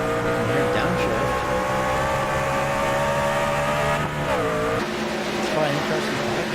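Racing truck engine in a stock-car style video game at Gateway, a loud steady drone that drops sharply in pitch as it downshifts near the middle, then climbs again, with a commentator talking over it.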